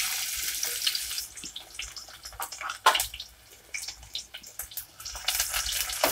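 Thinly sliced onions sizzle in hot oil in a pot, a steady bright hiss with a sharp louder burst in the middle and scattered crackles throughout.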